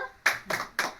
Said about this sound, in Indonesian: kita tepuk mantul dulu ya